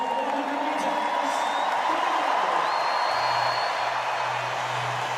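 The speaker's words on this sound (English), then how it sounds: "There he is, you can hear the crowd." Stadium crowd at the World Para Athletics Championships in London cheering and whooping, a broad roar with a whistle and brief tones, under a commentator speaking over it.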